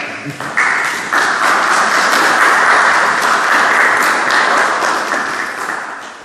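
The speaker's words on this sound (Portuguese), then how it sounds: "uma salva de palmas para ela" An audience at a cultural week evening event applauds, a loud, dense, continuous wash of clapping that fills the room and slowly tapers toward the end.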